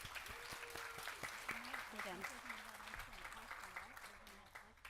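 A conference audience in San Diego claps steadily in a broad wash of applause while a speaker's voice carries clearly over it.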